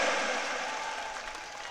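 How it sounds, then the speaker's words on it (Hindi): Crowd applause welcoming a speaker at a Rajasthan election rally, a dense, steady wash of clapping that fades slightly over a brief moment, with no talk over it. "जोरदार तालियां बजाकर स्वागत करें।"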